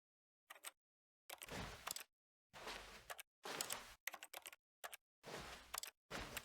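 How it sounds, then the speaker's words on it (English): Keys pressed on a computer keyboard while a player tries out commands in The Stanley Parable, short isolated clicks and clattering bursts of tapping separated by silence, close and quiet. "Press I on your keyboard?"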